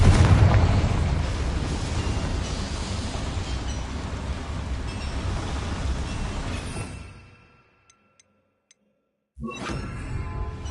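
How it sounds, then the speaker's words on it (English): A Confringo blasting spell erupts in the Hogwarts Legacy video game, a heavy rumbling roar that stays loud for several seconds, fades away into near silence, then gives way to a fresh burst of noise. "Confringo!"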